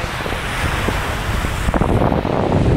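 Wind blowing across a beach with sea waves surging onto the shore, a steady broadband roar close to the microphone with louder rushes of surf toward the end.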